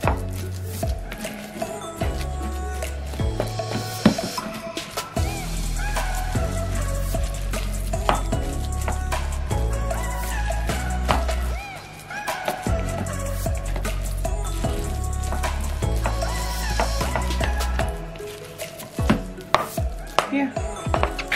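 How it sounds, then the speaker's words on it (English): Cooked sweet potato being mashed with a spatula in a pan, repeated close tapping and scraping thumps against the pan bottom over a soft sizzle, steady rhythmic strokes throughout. "the potato is soft enough so I can use the spatula on it"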